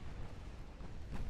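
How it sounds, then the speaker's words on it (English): Shell hits explode on a cruiser during a naval battle in Ultimate Admiral Dreadnoughts, heard as a low, rumbling blast that is muffled and distant, with a slight swell near the end. "Massive hits on that cruiser there."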